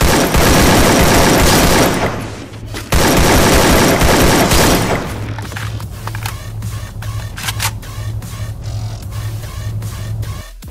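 Automatic and rapid gunfire in a solo-versus-squad battle royale video game match: a dense, loud burst of shots at first, then a rhythmic string of sharp, evenly spaced single shots over a steady low drone.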